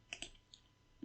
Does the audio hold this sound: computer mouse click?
yes